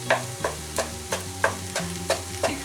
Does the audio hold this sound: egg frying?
yes